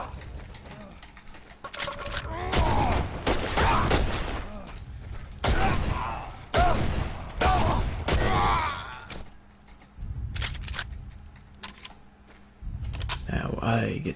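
Bursts of gunfire and loud impacts from the video game Condemned: Criminal Origins, sharp repeated volleys separated by brief lulls, with clattering mechanical noises and a voice talking at times.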